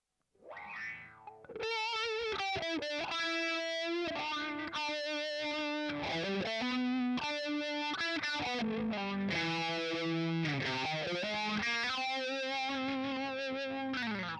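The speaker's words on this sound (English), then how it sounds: "Now we'll try the auto wah, and we might pop it up onto the lead channel for this one." An electric guitar plays a run of notes through the auto-wah effect of a Boss Katana MK2 amp on its lead channel, each note sweeping with a vowel-like quack; loud and continuous, with no voices.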